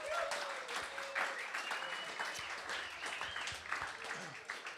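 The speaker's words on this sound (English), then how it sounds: "Let's clap for that story" An audience breaks into steady applause, a dense wash of clapping that holds at an even level throughout, with a few scattered voices mixed in.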